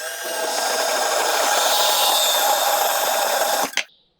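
A 26-34 metal tube for a Solex engine workshop stand is cut at a 15-degree angle with a power tool, a steady loud grinding rasp running for several seconds before stopping abruptly.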